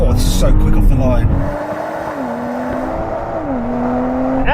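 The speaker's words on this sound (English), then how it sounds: "Oh, this is so quick off the line." A BMW and a Mercedes launch off the line together, engines loud and close with rising revs stepping through gear changes over a steady roar.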